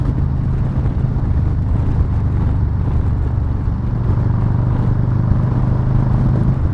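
A Harley-Davidson Low Rider S motorcycle cruising in fifth gear at about 75 mph, its engine giving a steady, loud low rumble with wind roar that holds even throughout.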